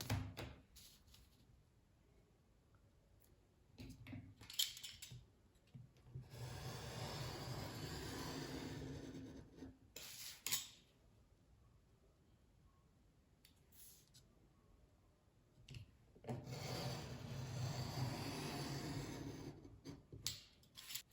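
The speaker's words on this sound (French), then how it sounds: "Je vais maintenant découper ces deux bandes-là, ces deux hauteurs, avec mon cutter." A craft knife slices strips from a sheet of paper for a scrapbook accordion pop-up mini album, giving two long, faint scraping strokes separated by near silence and a few small handling taps.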